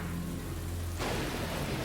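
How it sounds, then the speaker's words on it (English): Steady rain hisses through a worsening storm, with a low rumble of thunder underneath and a sudden burst of heavier rain partway through. "The storm gets worse and day turns to night."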